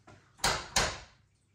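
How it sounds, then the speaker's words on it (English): A door opens in a room near a snooker hall with a bar: two sharp, close knocks or latch clunks in quick succession, each fading away with a short ringing tail. "Here's the door."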